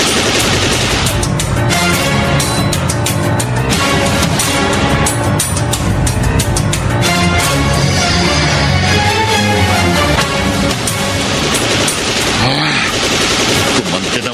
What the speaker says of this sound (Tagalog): Pinapuputokan tayo ng kotseng hinahabol natin.